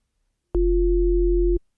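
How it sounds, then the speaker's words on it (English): Two steady synthesized sine-wave tones an octave apart, a deep low hum and a clear higher pitch, sound together for about one second, then cut off abruptly. "And that is going to be 2 sine waves"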